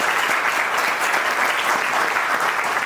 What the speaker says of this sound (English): a huge round of applause for all of you right at the beginning